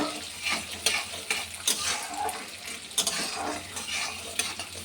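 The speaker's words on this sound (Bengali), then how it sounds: "এই ডালটাই তেলের মধ্যে একটু নেড়ে নেব" Lentils being stirred and fried in hot oil in a pan while cooking an ash gourd ghonto, with a steady soft sizzle under repeated scraping strokes of a spoon, close and moderately loud.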